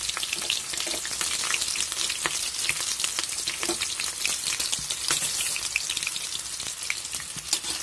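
Green chillies and onion fry in oil in a pan for a spicy curry-point style chicken fry, giving a steady, close, crackling sizzle with scattered sharp pops throughout and no talking.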